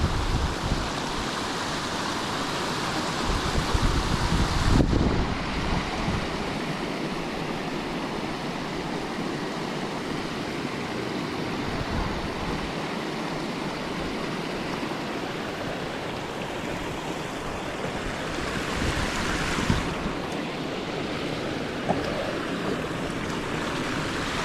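A river rushes past near a dam in the Maine woods in snow, a steady loud broadband roar of flowing water with a brief surge near the start.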